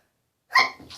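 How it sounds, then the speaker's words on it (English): A single short, sharp human sneeze bursts out after a brief silence, close and loud, followed by a faint breathy tail. "I'm going to sneeze. It's going to be delightful."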